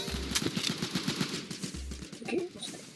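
Gunfire from the online shooter Hypershot sounds as rapid bursts of sharp shots, with a couple of heavier low thumps, all fairly quiet in a busy game mix.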